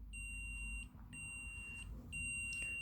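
A Sky Q TV remote's locator pings: a high electronic beep three times at a steady one-second rhythm, clear and close over a low background hum.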